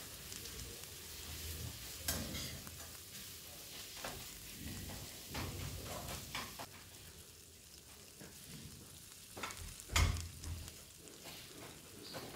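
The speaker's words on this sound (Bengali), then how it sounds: "এই সব দিয়ে আমি এখন এটাকে কষিয়ে নিই।" Katla fish heads with spices sautéing in a pan, a low, steady sizzle broken by scraping stirs and one sharp clatter near the end, with no voices.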